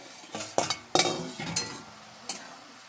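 Metal clinks and clatters as a lid comes off a pot where cabbage has been steaming for chicken momos, several sharp knocks close by with a faint sizzle underneath.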